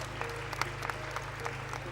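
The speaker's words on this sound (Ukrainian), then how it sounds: "Прошу оплески для найстарішого українського мовника." Applause from a crowd in the Ukrainian parliament for the centenary of Ukrainian Radio, fairly faint and steady, with scattered sharper claps over a low hum.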